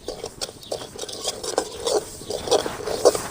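Wheat rava is stirred while it dry-roasts in a pan, giving a steady series of soft scraping and rustling strokes, near and fairly quiet, with no talking.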